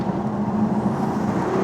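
A BMW M4 driving on a city street, heard as a steady low engine hum and road drone from inside the car, constant and moderately loud with no voices.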